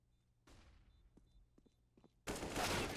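CS:GO match gunfire: a few faint scattered shots and thumps, then a sudden loud burst of rifle fire near the end.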